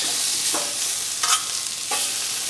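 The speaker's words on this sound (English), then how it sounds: "Just throw down on the onions. Start getting those" Sliced onions hitting a touch of hot oil on a Blackstone griddle, a loud close sizzle with a few sharp spatula scrapes and pushes, no voices.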